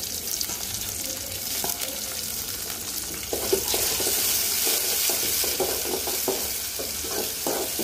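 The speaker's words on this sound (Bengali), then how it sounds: "চিংড়ি মাছগুলো ভালো করে পেঁয়াজের সাথে ভেজে নিব" Shrimp frying with onions and oil in a hot pan, a steady loud sizzle that intensifies midway as the mix is stirred, with scraping stir strokes repeating close by.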